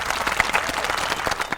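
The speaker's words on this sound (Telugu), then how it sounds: "గట్టిగా చప్పట్లో" An audience at a Telugu comedy stage show gives a short, brisk burst of clapping during a mock statue unveiling, a quick flurry of hand claps with distinct individual slaps.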